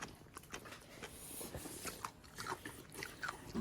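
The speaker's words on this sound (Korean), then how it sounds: "갑자기 과자 엄청 땡겨가지고 먹어." Crunchy snack crackers being bitten and chewed up close, a quiet run of irregular crisp crunches and crackles with no talking.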